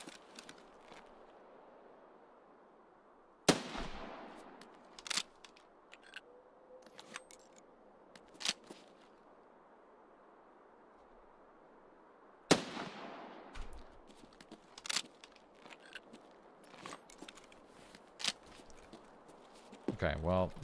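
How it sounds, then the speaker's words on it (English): In Escape from Tarkov, a sniper Scav fires two sharp, loud gunshots several seconds apart, each followed by a short echoing tail, with fainter pops and someone talking quietly over them. "Sniper Scav's firing at somebody now."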